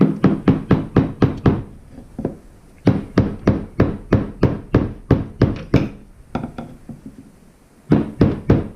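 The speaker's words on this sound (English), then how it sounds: "Take the hammer and snug it in place." Rapid bursts of sharp, close hammer taps, several quick strikes in a row, separated by brief pauses, tapping a fuel pump part into place on a Jeep Wrangler TJ.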